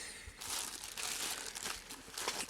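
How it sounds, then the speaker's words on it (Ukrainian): A parcel's packaging is carefully cut open up close, giving bursts of crinkling, crackling plastic and paper with no talking. "Акуратно ріжу, бо тут дуже, дуже цінне воно, може пошкодитися."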